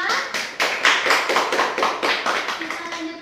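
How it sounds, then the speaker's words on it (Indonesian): Brief round of applause for a woman at a small Indonesian gathering, a dozen or so evenly spaced claps from a few people, close and fading out after about three seconds. "Kita beri tepuk tangan untuk Ibu Tarma."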